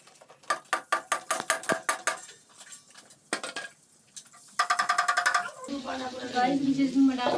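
A spatula scrapes and clinks in a pan as food is stirred in hot oil, a rapid series of sharp metallic taps, then a softer sizzle and scraping as the stirring continues.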